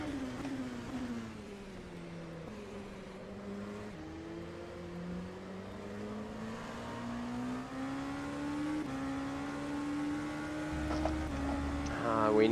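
An LMP2 prototype race car at Silverstone in rFactor 2 drones steadily, its engine pitch dipping and climbing through gear changes and throttle over several seconds, moderately loud and continuous.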